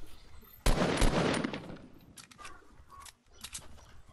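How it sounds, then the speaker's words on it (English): Automatic gunfire in a video game, fired at a bush: a loud, dense burst of shots that rings on and fades, then several shorter, fainter bursts follow. "I'm just gonna shoot that bush."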